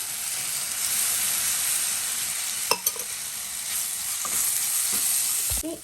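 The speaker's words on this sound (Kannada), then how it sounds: "ಈಗ ಕಲಸಿದಂತಹ ಕಡಲೆ ಹಿಟ್ಟನ್ನು ನೀರನ್ನು ಹಾಕ್ತಾ ಇದ್ದೀನಿ" Gram flour batter and water poured into a hot frying pan with okra, a steady close sizzle and hiss running throughout with a few brief clinks near the middle and end.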